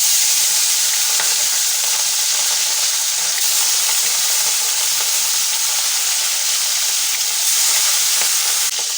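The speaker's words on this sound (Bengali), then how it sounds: "তেলটা ভালোভাবে গরম হয়ে গেছে এবার মাছ দিয়ে দেবো তেলের মধ্যে" Hot oil for frying bhola fish gives a loud, continuous hiss, an even wash of sizzle that holds steady throughout with no voices.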